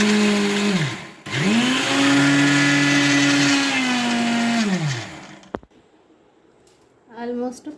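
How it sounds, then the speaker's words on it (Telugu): A kitchen mixer grinder whirs loudly while grinding flax seeds with cumin, coriander, sesame, tamarind, salt and garlic into spice powder, in two bursts with a pause, then stops; a voice speaks briefly afterward. "ఆల్మోస్ట్ ఫ్లాక్ సీడ్ పౌడర్ అయిపోయిందండి. మిక్సీ పట్టాను."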